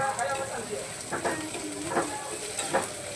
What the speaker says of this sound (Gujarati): એ નાખીને થોડીક વાર હલાવતા રહીએ